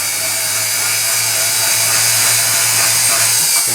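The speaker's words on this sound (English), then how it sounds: "then you take a diamond burr and just go all the way around with it" A diamond burr grinds steadily over a sterling silver bangle, giving a continuous high whining buzz with a low motor hum beneath, loud and unbroken from start to end.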